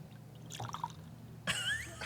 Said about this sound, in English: You have to pour close to the mic.